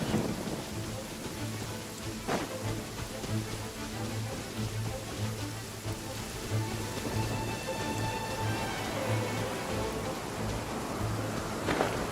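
Heavy rain pours steadily in the video game Genshin Impact, a dense, continuous hiss with a few sharp cracks and low rumbles woven through, loud and close with no speech.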